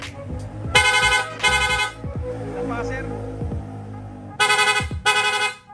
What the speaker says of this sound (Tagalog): Nag-install din tayo ng rapid horn.